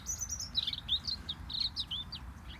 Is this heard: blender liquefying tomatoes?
no